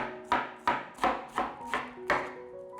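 Cleaned enoki mushrooms are chopped with a knife on a board in six sharp, evenly spaced strokes, close and clear with nothing else audible.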